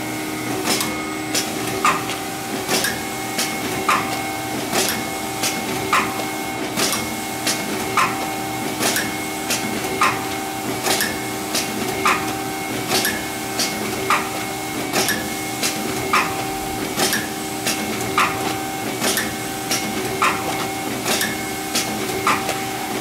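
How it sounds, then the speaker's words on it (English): A packaging machine filling and impulse-sealing 16 oz gel bags at 32 bags a minute, running with a constant mechanical hum and tones, punctuated by sharp, evenly spaced clacks about once per second. "Again, we're filling 16 ounces of gel, running 32 bags a minute."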